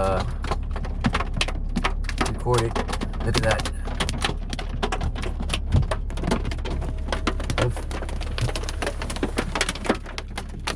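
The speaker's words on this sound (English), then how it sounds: "We're getting hit with hail right now." Hail strikes a vehicle on a dirt road, producing dense irregular sharp clatters and knocks on the body and glass, loud and close, while someone speaks briefly.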